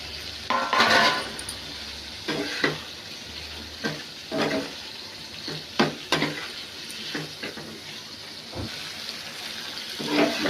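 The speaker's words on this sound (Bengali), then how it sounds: "আলু আর টমেটোটা একসাথে আমি দিই।" Potatoes and tomatoes fry with spiced masala in a pan, giving a steady sizzle broken by repeated scraping stirs at close range, with a tap running briefly and no talk.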